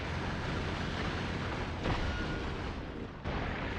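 Dense, steady rattle of gun turrets firing in the Factorio Space Age video game, continuous automatic bursts with two sharper surges partway through, fairly loud with no talking.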